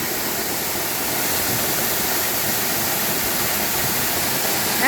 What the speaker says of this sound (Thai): อยากอยู่กับน้ำตกนี่แหละ